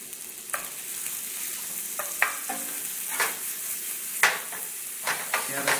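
Prosciutto, onions and garlic sizzling in a pan for pasta carbonara, a steady frying sizzle punctuated by irregular spoon-stirring scrapes and clicks, close and clear, with no talking.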